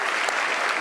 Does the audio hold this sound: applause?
yes